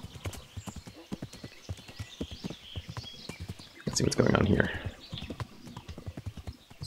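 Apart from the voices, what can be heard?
horse hooves trotting in the video game Kingdom Come Deliverance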